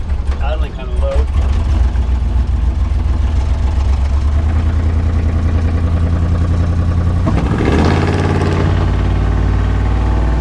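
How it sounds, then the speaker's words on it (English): A 1973 K5 Jimmy engine idles low and steady with a deep rumble, a brief rev-like surge near the end, while someone talks over it. "Idling kind of low."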